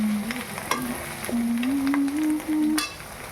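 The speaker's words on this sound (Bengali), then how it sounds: "চলো পেঁয়াজ বাটাটা দিয়ে দিই, দিয়ে নাড়তে থাকি।" Onion paste fries in a pan for a chicken dish, with a soft steady sizzle and scraping stirs, plus a thin tonal whine running underneath.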